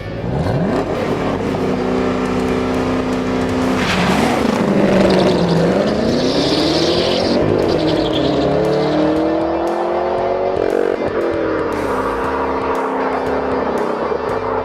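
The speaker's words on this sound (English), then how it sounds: "all you have to do is floor the gas, bring it up on the rev limiter and dump the clutch" A 2012 COPO Camaro factory drag car revs hard on a drag strip, the V8 climbing to the limiter and then launching, its engine pitch sweeping up through repeated gear changes, loud and close with no voices.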